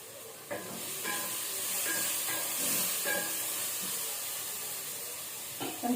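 Onions fry under a lid in a pan, giving a steady bright hiss and sizzle with a few faint taps and clinks, with no talking.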